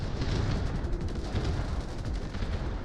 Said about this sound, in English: I put down the artillery and it can really start wrecking people's